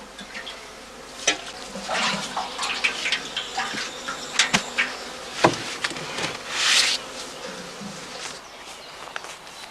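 Honey bees buzz busily around straw skeps set out with sugar syrup on heathland, a close, constant hum with individual insects zipping past and occasional soft handling knocks.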